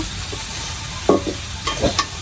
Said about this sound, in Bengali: এখন এই সবগুলো মশলা একটু কষায় নিব